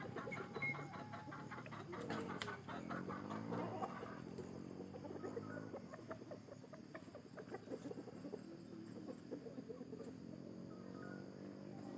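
An eight-month-old red junglefowl rooster clucks repeatedly in soft, rapid bursts. The calls are fairly faint and carry on throughout against a quiet outdoor background.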